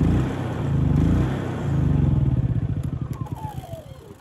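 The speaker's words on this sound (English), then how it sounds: "I'll run the gas out that's in the carburetor, then we'll shut this off and be ready for storage." Portable emergency backup generator engine running loud and steady with the eco throttle off, burning the remaining gas from its carburetor; the even drone gives way to a rapid, pulsing chug as the engine starts to starve of fuel.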